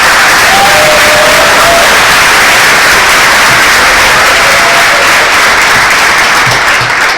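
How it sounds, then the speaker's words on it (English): Loud, dense applause from a lunch audience for West Virginia Secretary of State Natalie Tennant, steady and sustained throughout with faint cheering mixed in. "Please give a round of applause for your Secretary of State"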